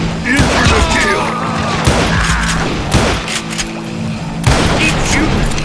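Gunfire in the Western shooter video game Call of Juarez Gunslinger, with a steady fusillade of loud, close shots and heavier booms every second or so, mixed with game voices.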